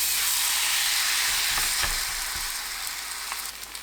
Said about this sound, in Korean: 팬이 예열되면 중불로 낮추고 호박잎에 반죽 묻혀 올려주세요.